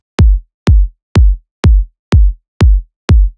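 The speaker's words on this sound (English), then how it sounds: "it starts to sound like a good kick drum." Seven punchy processed electronic kick drum hits land at a steady tempo, each with a tight attack and a fuller, rounder low-end tail, with nothing else playing.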